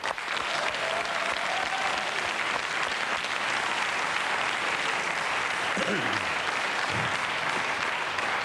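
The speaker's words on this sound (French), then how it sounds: "On peut l'applaudir." A television studio audience applauds actor Jean-Pierre Bacri on a comedy show, a dense, sustained, even roar of clapping throughout, with a few brief voices faintly audible underneath near the end.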